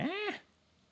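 A single short meow, clear and close, rising then falling, with quiet room tone after; it may be a person imitating a cat rather than a real cat.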